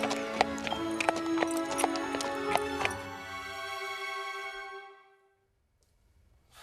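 Horse hooves clip-clop at a steady pace in a scene from the BBC TV drama The Larkins, a sharp rhythmic clatter over sustained tones that carries on and then fades to near silence.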